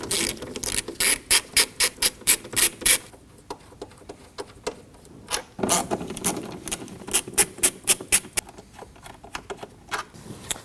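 A hand ratchet clicks in quick rhythmic bursts while 7mm bolts are loosened at the top of the intake on a 2015–2024 Ford Edge 2.0L four-cylinder, two runs of close, crisp pawl clatter separated by a brief pause.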